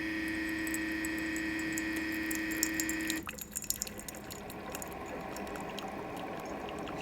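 Hot water dispensing from a Keurig K Compact coffee maker: a steady tonal hum of the brewer runs for about three seconds, then stops and gives way to pouring, splashing liquid streaming into a cup.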